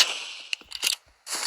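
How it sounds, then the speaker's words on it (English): An Uzi fires in a video game, with a few sharp, close cap-gun-like pops in quick bursts separated by short gaps, over a bright hissing layer. "the Uzi is one of my favorite weapons to use a lot"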